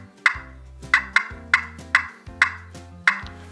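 A hand-held turkey call with its striker popped straight down to make the cluck or cut of an excited hen, giving six sharp, evenly spaced clucks, loud and close with nothing else heard.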